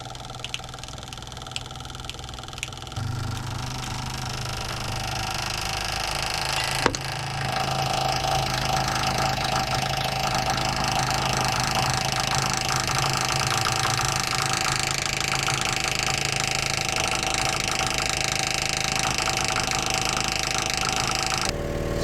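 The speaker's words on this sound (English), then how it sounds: "it appears to me that the pump is just having a hard time priming itself." Electric fuel pump on a Fiat Allis loader starts after a few soft clicks and runs as a steady mid-pitched whir and hum for around twenty seconds while it primes, close and even.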